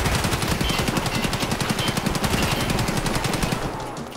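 Rapid automatic gunfire in Escape From Tarkov fires in a long, evenly spaced burst of sharp, loud cracks close by, trailing off slightly at the end with no talking.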